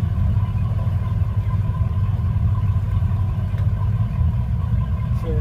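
A twin-engine boat idles in reverse while docking, giving a steady, loud, low engine rumble with a faint whine above it.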